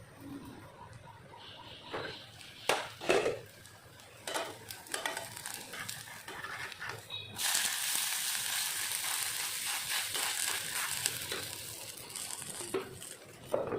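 Gola aloo paratha, a potato-stuffed flatbread, cooks in a pan: soft intermittent sizzling with a few utensil clinks and scrapes, swelling into a steadier, brighter hiss of frying partway through.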